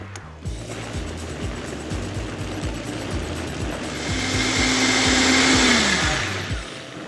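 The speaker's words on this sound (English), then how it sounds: "You always want to be careful when blending hot liquids." A countertop blender purees hot sauce made from peppers and white distilled vinegar, its motor whirring loudly with a steady rhythmic chop, then rising in pitch as the mix smooths before stopping.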